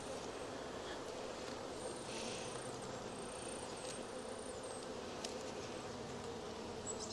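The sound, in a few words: honeybees buzzing at the hive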